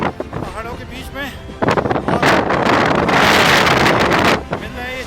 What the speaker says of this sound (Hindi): काफ़ी तेज हवा चल रही है